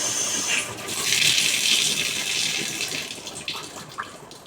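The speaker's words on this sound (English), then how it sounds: "I'm going to turn on the water supply and then tap." Water gushes steadily from a kitchen tap after a leaking valve is replaced, a loud continuous hiss of running water that eases slightly toward the end, with no voices.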